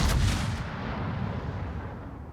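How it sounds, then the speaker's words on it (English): Yamato battleship main guns firing in World of Warships, a single heavy booming blast with a long rumbling decay, close and loud, no speech. "Yamato guns hurt."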